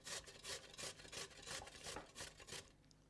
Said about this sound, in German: Ihr könnt es mit einer schönen Reibe machen.